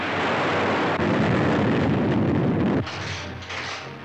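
Gunfire from an air dome tower in a science-fiction radio serial, heard as a dense, loud roar of shots and blasts that runs without a break for nearly three seconds, then drops to a lower, rougher rumble.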